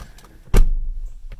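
A car door swings open and slams shut with one heavy, solid thud, followed by a low rumbling tail and a faint click, close and loud with no talking.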